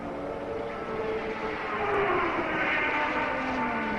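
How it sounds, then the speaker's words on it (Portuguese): BMW engine of a 1984 Formula 1 race car at the South African Grand Prix, a steady droning roar heard from a distance that swells slightly in the second half, with no commentary over it. "falou mais alto o motor BMW do Nelson Piquet."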